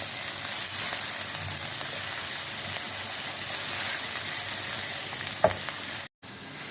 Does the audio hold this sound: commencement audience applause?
no